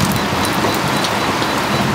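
Dense, hissing rain with gusting wind in a thunderstorm at sea aboard a sailboat, a constant loud wash of noise with no voices.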